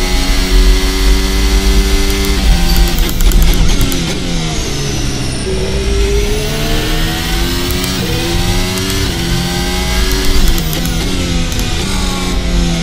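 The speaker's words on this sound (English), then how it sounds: "A little bit of wheel spin there, but that's only because I'm getting really hard into the throttle." A car engine revs loudly under hard throttle with wheel spin, its pitch climbing, dipping and climbing again across repeated pulls, close and continuous with no voices.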